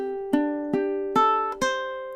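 Ukulele fingerpicking a gentle lullaby phrase, four clean plucked notes ringing and overlapping, close and alone with no voice.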